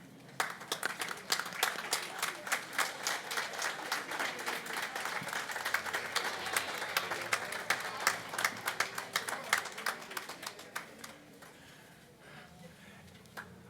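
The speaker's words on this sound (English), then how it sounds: "So I'd ask you students to stand, turn, and applaud those people that have been your supporters for so long." Graduates at the 2021 SJC Brooklyn commencement ceremony turn and applaud their supporters: a dense, sustained round of crowd clapping heard from a distance, tapering off and fading near the end.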